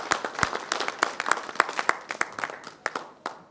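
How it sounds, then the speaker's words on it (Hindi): Applause from an audience at a Rajasthan political party gathering, a steady patter of many hands with sharp individual claps standing out, close and lively, alone without talk, lasting about three seconds. "उनके लिए जोरदार तालियां बजाएं।"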